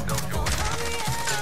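Rapid gunfire in a Call of Duty Warzone match at the Superstore, dense and continuous bursts filling the whole stretch, loud and close with no talk over it.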